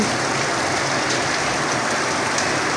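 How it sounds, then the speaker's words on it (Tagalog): Steady, dense rain falling outside beside a roadside, a constant close hiss of drops on surfaces with no pauses throughout. "Maulan na maulan sa labas. Ayan po, kung makikita nyo, umuulan."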